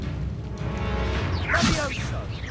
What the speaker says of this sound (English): Arresto Memento! Expelliarmus!